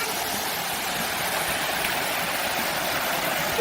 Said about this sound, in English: Loving my waterfall